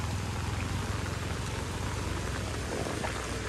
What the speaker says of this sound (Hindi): क्योंकि बारिश खराब से दे रहा है अभी भी